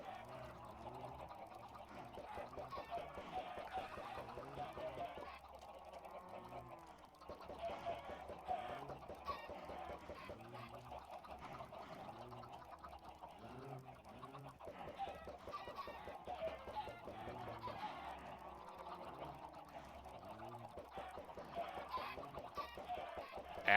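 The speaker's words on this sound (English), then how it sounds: "Adding so many more chickens." Many chickens cluck continuously in the Minecraft video game, a dense overlapping chorus of short repeated game-sound clucks throughout, quiet and steady, with someone talking over it at times.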